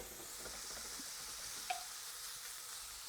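Onions fry in a pan with bacon for Yorkshire udon, making a soft, steady sizzle with a faint stir and a single small clink.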